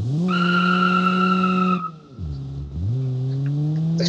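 A tiny Hisanki Wazler hatchback, loosely based on a Mitsubishi Colt, drives in BeamNG.Drive. Its engine holds a high, buzzing rev, drops off sharply, then climbs back up. The sound is loud and close, with no voices.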